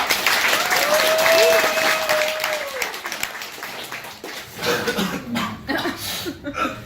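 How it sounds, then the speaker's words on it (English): An audience at a college improv comedy show claps steadily. The applause fades out over several seconds, with a cough and some murmuring chatter mixed in. "a warm round of applause for Dress Up"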